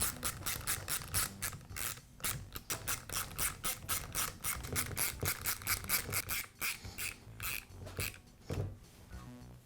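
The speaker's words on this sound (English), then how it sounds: "To make it easier to remove the boot, I'll tighten up the screws that secure the shoe." Screws on the shoe of a Milwaukee reciprocating saw being tightened with a hand tool, heard up close as a rhythmic run of squeaky scraping turns with brief pauses between them.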